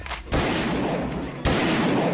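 Gunfire in the video game DarkRP, loud and close, with a sharp burst and then a second strong blast about a second later, each followed by a broad crackling tail.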